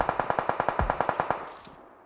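A Mini 14 rifle in the PUBG game on the Miramar map fires a rapid string of about a dozen evenly spaced, sharp shots, each with a metallic ring, then an echoing tail fades out.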